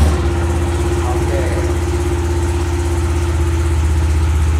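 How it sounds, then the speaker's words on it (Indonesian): A 2018 Kawasaki Ninja 250 motorcycle with an aftermarket exhaust idling close by, a loud steady low rumble with an even pulsing beat after a brief start at the beginning. "itu dia tadi suara mesin dari Kawasaki Ninja All New 250 tahun 2018"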